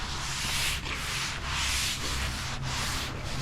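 Gritty Comet cleanser is scrubbed by hand over the faded paint of a 1964 Oldsmobile 98, giving a rhythmic, close, raspy rubbing with strokes roughly every half second and no talk.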